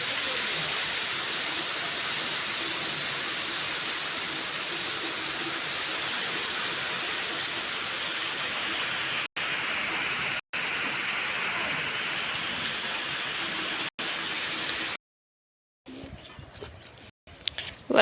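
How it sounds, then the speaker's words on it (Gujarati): Water rushes loudly and continuously outdoors after heavy rain, a dense steady roar that cuts out briefly a few times and then gives way to quieter, scattered sounds near the end. "અહીંયાથી જો ફૂલ પાણી આવે છે, અવાજ આવે છે।"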